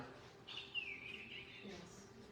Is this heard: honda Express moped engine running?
no